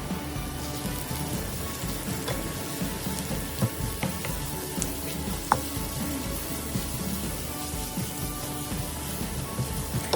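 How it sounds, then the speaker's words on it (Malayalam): Thinly sliced onions fry with salt in oil for chicken biryani, giving a steady, close, crackling sizzle that runs unbroken throughout with small pops and no voices. "അപ്പോൾ ആവശ്യത്തിന് ഉപ്പും ചേർത്ത് നമുക്ക് നല്ലോണം വറുത്തെടുക്കാം."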